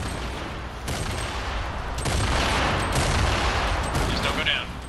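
Grenade launcher fire in a video game: a dense, loud barrage of bursting shots and blasts rolls on steadily throughout, with faint voices mixed underneath.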